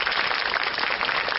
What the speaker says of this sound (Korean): 한국예술예술단의 궁중 건무 다시 한번 큰 박수 부탁드립니다